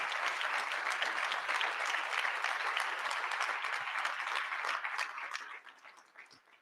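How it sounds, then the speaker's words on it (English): An audience at Boise State's State of the University event applauds President Dr. Marlene Tromp, a steady wash of many hands clapping that stays even for several seconds, then thins and fades out. "Let's give one final round of applause for Dr."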